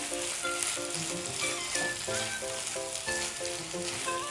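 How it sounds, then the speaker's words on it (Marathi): Tomatoes fry in oil for bhindi masala with a steady, close hiss and crackle, under background music with no speech. "टमाट्याला ना चांगलं असं तेलामध्ये फ्राय करायचं आपल्याला"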